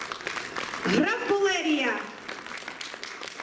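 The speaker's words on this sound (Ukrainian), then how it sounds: "Більше і більше оплесків." Audience applause at an anniversary concert of a Rusyn folk studio in Irshava, a steady crackle of many hands clapping under a voice announcing names over the sound.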